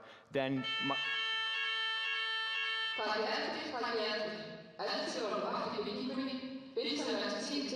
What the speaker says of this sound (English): that was the fire alarm